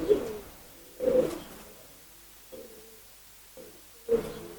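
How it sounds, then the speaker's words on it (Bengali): A few soft pigeon coos come at irregular intervals, with quiet gaps between them. The coos are faint, as if from a little way off. "আচ্ছা জাকির ভাই আজকে শুনলাম আপনার এইখান থেকে দশ পিস কবুতর কমানো হবে"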